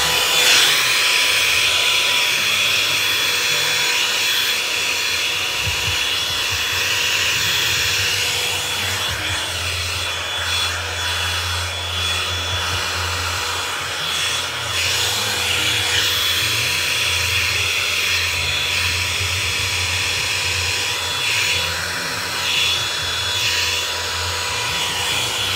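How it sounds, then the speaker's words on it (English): A handheld hair dryer blows on a woman's freshly cut hair, a steady close-up whoosh of air that runs unbroken the whole time, with the pitch shifting slightly as the dryer moves around the head. "So I just blow dry it like normal."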